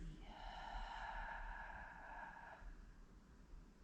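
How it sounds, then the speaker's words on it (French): A single long exhale through the mouth during a breathing exercise, a soft, steady airy rush lasting a couple of seconds before fading, quiet and close, with no talking. "je souffle par la bouche"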